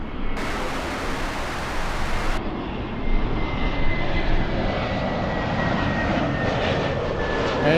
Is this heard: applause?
no